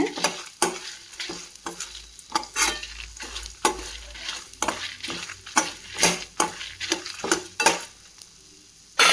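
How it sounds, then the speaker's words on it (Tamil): Vegetables for okra sambar lightly frying in a pan, with repeated scraping stirs and clinks of a utensil against the pan over a soft sizzle, close and steady, no talk. "லைட்டாக வறுத்தா போதும், ரொம்ப கருக வைக்காதீங்க."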